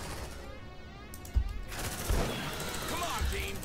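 Gunfire in the sci-fi video game Aliens: Dark Descent, with bursts of rapid weapon fire and a few heavy thumps under a steady game soundscape, while a voice talks over the action.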